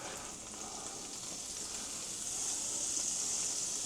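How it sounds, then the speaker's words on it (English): Garlic and a little flour fry in melted butter, giving a steady bright sizzle that grows slightly louder toward the end, close and uninterrupted by voices. "got the butter melted. We got the garlic starting to brown. And we're going to add in a little bit of flour"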